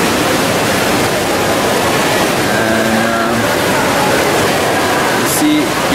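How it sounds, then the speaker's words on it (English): A water feature at the Solarium pool aboard the MSC Preziosa cruise ship splashes in a loud, continuous rushing wash, with faint voices briefly rising beneath it. "Water feature."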